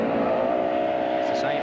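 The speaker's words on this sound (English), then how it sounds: "Lots of revs up, lots of power." A rally car engine roaring at high revs, a strong sustained tone as the car pulls away hard on a forest rallysprint stage in 1988, loud and fairly close.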